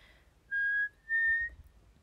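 A young woman whistles a short tune of two sustained, clear notes, each held about half a second with a brief gap between them, close and alone with no talk over it.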